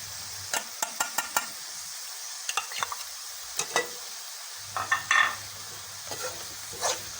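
Tomatoes with green chillies, ginger and garlic frying in a pan, a soft steady sizzle broken by clattering spoon scrapes and knocks against the metal as they are stirred, close and alone.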